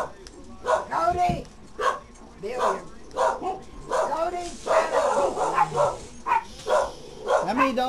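Several dogs inside a house bark over and over in short, loud, overlapping bursts, close by, with people talking among the barking.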